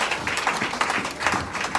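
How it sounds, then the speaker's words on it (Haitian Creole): A crowd claps steadily and loudly, a dense wash of applause running throughout with no pauses. "applaudissez le Seigneur parce que Dieu te fait avec nous"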